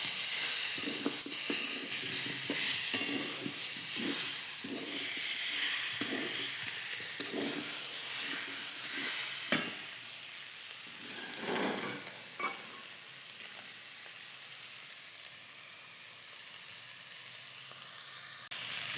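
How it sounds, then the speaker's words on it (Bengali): Chicken frying with spices in a pan while being stirred: a continuous hiss and sizzle broken by repeated scraping stirs in an uneven rhythm, easing off toward the end, with no talking. "এবার আমি এটা ভালো করে কষে নেব"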